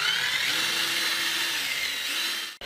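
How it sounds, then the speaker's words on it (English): A drill-powered scrubber brush cleans tiles, giving a steady, loud, close mechanical whir that runs unbroken and then cuts off abruptly at the end, with no voices. "These scrubbers attach to any drill or electric screwdriver."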